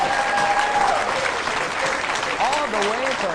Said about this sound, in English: How about a big round of applause, everybody, for Chad Schober.